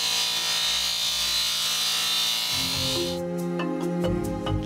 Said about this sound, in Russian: После этого за дело берется пятиосевой обрабатывающий центр с ЧПУ.